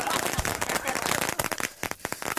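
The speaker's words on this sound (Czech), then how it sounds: "Tuto petardu bych přejmenoval z Bombardona na Bacha na starýho Zacha" A Bombardon firecracker goes off outdoors in dense, crackling bursts of sharp pops and snaps, loud and close, layered over a noisy background during a pyrotechnics quality test.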